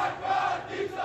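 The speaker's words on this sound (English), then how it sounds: "This crowd are chanting death to the dictator" A large protest crowd in Iran chants in unison, a dense, loud roar of many voices filling the whole second with a slight rise and fall.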